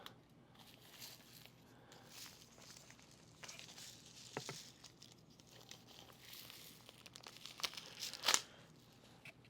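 Plastic wrapping around an Eva-Dry EDV365 renewable dehumidifier crinkling during unboxing, faint scattered rustles building to a sharper, louder crackle near the end.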